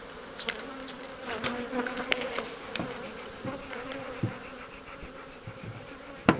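Honey bees buzz around hives during a honey harvest in Kurtköy, Yalova, a dense continuous hum with individual bees flying close past now and then, and no talk.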